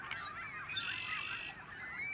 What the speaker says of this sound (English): There were loads of waterfowl there, though, representing at least half a dozen species.